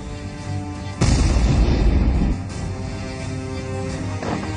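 A loud, deep car bomb explosion from a suicide attacker's car in Kirkuk, northern Iraq, booms suddenly, its rumbling roar sustaining for over a second before dying into a steady background hum.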